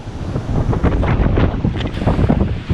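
Strong wind buffets the microphone on a stormy coast where waves hit breakers, a loud, continuous roaring rumble with gusting surges and no talk.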